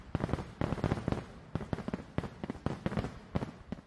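A rapid series of sharp fireworks bangs and crackles, irregular bursts popping one after another at moderate distance.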